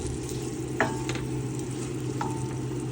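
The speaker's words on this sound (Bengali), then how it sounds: "ইলিশ মাছের মাথাটা দিয়ে খুব ভালো করে মশলাটাকে কষিয়ে নেব" Hilsa fish head frying in spice paste in a large pot for a bottle gourd curry, giving a steady close sizzle with a couple of brief utensil clicks.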